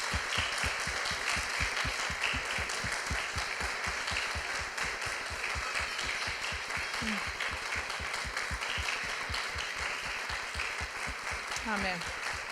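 A church congregation claps in a steady rhythmic beat in honour of Malvinas War veterans and the fallen, with scattered voices and a shout or two rising over the clapping.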